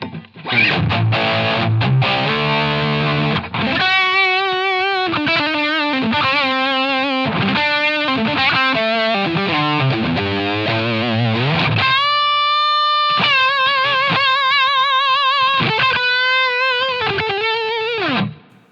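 A heavily distorted electric guitar plays chords and sustained notes through a Line 6 Helix effects processor, loud and continuous with brief pauses between phrases.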